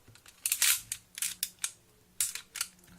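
Airsoft gun firing, a string of sharp, bright clicking snaps in irregular bursts, about eight shots over a few seconds, fairly close and alone with a low background hum.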